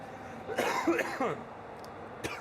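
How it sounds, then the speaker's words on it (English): A short cough and throat clearing sound close by, followed by quiet background hum. "Pardon my cough there."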